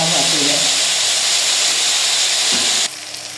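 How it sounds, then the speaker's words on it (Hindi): Chicken pieces with garlic and ginger sizzle steadily and loudly in a hot pan for Punjabi chicken gravy, a dense continuous frying hiss that briefly shifts near the end. "और इसे खूब अच्छे से करेंगे फ्राई"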